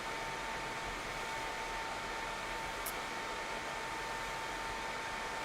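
A PS3 fitted with an IBM PowerXCell processor has its cooling fan roaring steadily like a hairdryer, a constant broadband airflow hiss with a faint tone, unbroken and without talk.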